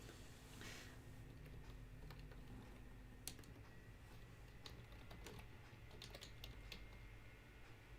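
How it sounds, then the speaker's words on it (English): Fingers type steadily on a computer keyboard in a quiet room, faint scattered clicks and taps arriving in irregular bursts over a low background hum. "we'll just start typing"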